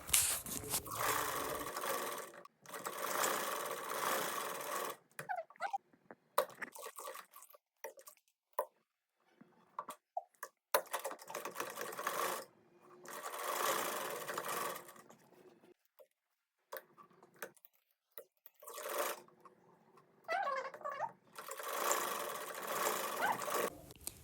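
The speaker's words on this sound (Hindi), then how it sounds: "तो चलिए मैं सिलाई लगा लेती हूँ" Sewing machine stitching a winter velvet dress, running in several bursts of whirring stitches separated by short pauses and quiet handling, fairly faint and close.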